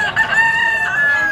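A rooster crows loudly and close in a single drawn-out call at a poultry and pet market in Malabon, standing clear of faint background noise.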